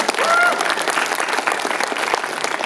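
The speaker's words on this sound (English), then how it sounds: "let's give a round of applause for our special guests." Convention audience at a San Francisco Comic-Con panel applauding its special guests, a dense, steady wash of clapping throughout, with crowd noise mixed in.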